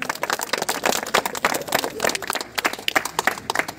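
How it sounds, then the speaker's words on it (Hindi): A crowd at a local ceremony welcomes a team with loud applause. The close, uneven clapping swells and dips in bursts over a few seconds. "जोरदार तालियां बजाई जाए।"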